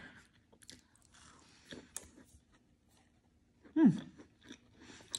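A macaron from Whole Foods or HEB being eaten close to the mic, with soft irregular chewing and crunching and one louder bite near the end, all quiet with no talking.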